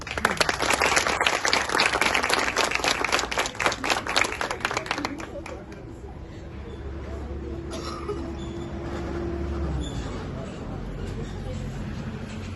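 An audience claps and cheers before a children's show, a dense burst of applause that fades after several seconds into a quiet room hum with a voice speaking.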